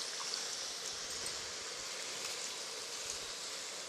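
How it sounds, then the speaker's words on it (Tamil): Tamarind water poured steadily into a pan of cooking amaranth greens, giving a continuous close, rushing splash that holds even for about four seconds with no voices. "இப்போ அந்த நெல்லிக்காய் அளவு வச்சுருக்கிற புளியே இதில் ஊற்ற போகிறேன்."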